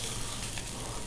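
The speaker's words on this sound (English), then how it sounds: "You want to make sure that you sear on every single side" Tuna searing in a hot cast iron pan, a steady, moderately faint sizzle with no talking over it.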